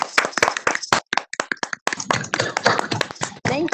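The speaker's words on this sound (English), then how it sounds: "we will provide a moment of applause" Scattered, uneven clapping from a handful of county board supervisors unmuted in an online meeting, crisp close hand claps arriving in irregular bursts with brief gaps, no voices.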